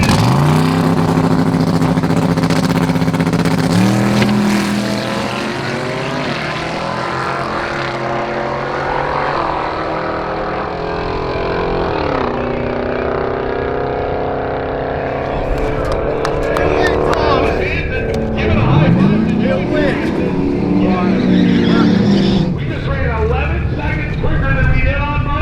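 A drag racing car roars down the strip at Great Lakes on a summer day, a long loud engine pass that rises and shifts before fading off, with people talking over it.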